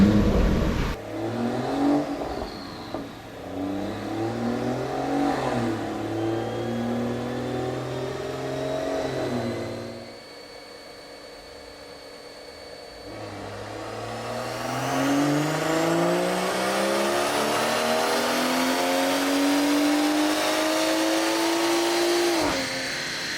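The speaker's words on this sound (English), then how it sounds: "now we can start the car" A BMW 340i with the B58 engine fires up on a dyno and revs hard. Loud engine tones climb and fall, drop to a quieter idle for a few seconds, then sweep steadily upward in one long, loud pull.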